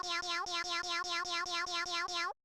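A cat meows about ten times in a fast, evenly spaced run, each call loud, close and similar in shape, with no talking over it before it cuts off.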